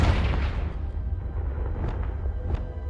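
A Confringo blasting spell explosion in the video game Hogwarts Legacy, a heavy boom at the start that decays into a low, rumbling tail, with a couple of faint crackling pops afterward.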